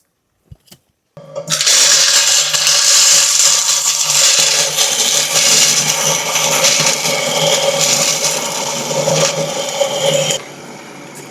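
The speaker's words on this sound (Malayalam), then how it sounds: "നമ്മൾ പിസ്ത പൊടിക്കണം ബദാം പൊടിക്കണം നട്സ് പൊടിക്കണം" A mixer grinder whirs steadily at full power while grinding pistachios, almonds and other nuts. The loud, even roar starts abruptly after a brief clatter and runs for about nine seconds, then cuts off.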